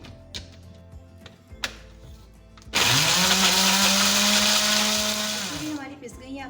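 A kitchen grinder finely pulverizes dried chillies for homemade tandoori masala, starting abruptly after some handling clatter and running loud and steady for about three seconds before spinning down.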